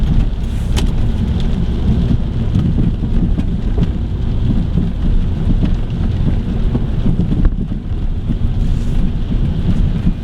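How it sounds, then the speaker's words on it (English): Rain drums steadily on a car in motion, a loud, dense, unbroken hiss mixed with low road rumble and wind buffeting the microphone, with no voices. "But I'm driving in the rain at 75 degrees outside."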